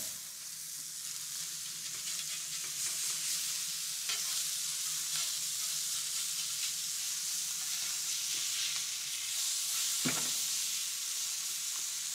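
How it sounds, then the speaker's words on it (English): Burgers fry in a hot cast iron pan with the burner turned off, a steady dense sizzle and crackle running throughout, close and fairly loud, with a few sharper pops and one brief flare near the end. "There's plenty of heat in this cast iron to carry these burgers all the way home."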